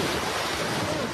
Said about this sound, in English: terrifying, massive monster waves